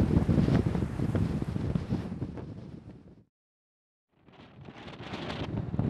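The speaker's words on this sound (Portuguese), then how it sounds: "Muito vento, vento muito forte." Strong wind roars and buffets the microphone on the open Salina Grande salt flat, dropping briefly to near silence before gusting back up to a steady rush.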